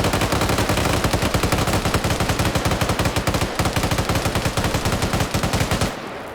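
Rapid automatic gunfire in a video game PvP match hammers out as a continuous, loud burst of evenly spaced shots, nearly unbroken for several seconds before cutting off abruptly.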